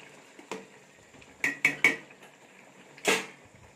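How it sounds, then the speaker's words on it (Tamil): Pot of mushroom biryani rice is opened and gently stirred: a metallic clink, then three quick scraping knocks of a spoon against the pot, and one louder clatter near the end, close and without talk. "திறந்து மறுபடியும் லைட்டாக கிளறி விடலாம். அரிசி உடையாமல் கிளறி விடுங்க."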